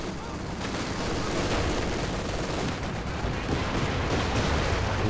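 Katyusha rocket artillery barrage in Company of Heroes 2 on the Port map, a dense continuous roar of rumbling launches and blasts sustained at steady loudness throughout.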